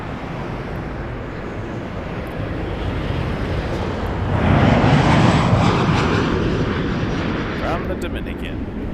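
A Sunwing Boeing 737-800 takes off from runway 23 at Toronto Pearson, its engines a loud, broad roar that swells in the middle and stays steady under wind buffeting on the microphone.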